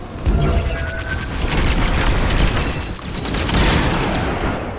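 Missile explosion in the Star Wars: Squadrons space-combat video game, a loud, sustained rumbling blast with crackling bursts that swell and fade over several seconds, close and alone.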